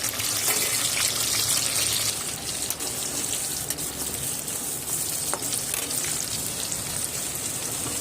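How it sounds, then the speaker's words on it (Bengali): Garlic, ginger, onion and tomato fry in hot oil for a meat and yam curry, giving a steady, dense crackling hiss that runs the whole time at a fairly even level, close by with no talking. "এবার ওই তেলের মধ্যে রসুন আদা পেঁয়াজ আর একটা টমাটো দিয়ে ভালো করে ভেজে নেবো"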